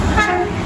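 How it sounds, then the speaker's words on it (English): An Avanti West Coast Evero train passes through Nuneaton, heard as a loud, close, steady rumble with a brief tonal whine. "an Avanti Evero service from Liverpool Lime Street to London Euston."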